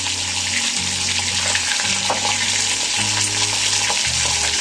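Cumin and coriander dropped into a pan of green beans and meat frying for an Egyptian-style stew, a loud steady sizzle close up over a low droning hum, with no voices.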